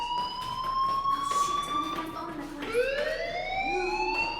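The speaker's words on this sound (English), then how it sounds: "do you hear that fire alarm?" A fire alarm rings in the video game Life Is Strange, steady rising and falling electronic tones with gliding pitch sweeps, fairly loud and continuous throughout.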